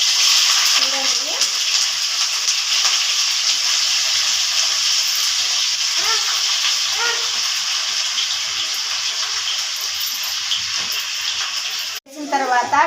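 Chicken pieces, squeezed of water, frying in a pan for a chicken curry: a continuous loud sizzle and hiss throughout, with a sharp clatter and scrape near the end.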